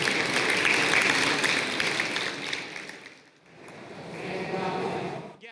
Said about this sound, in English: All right, a round of applause, guys.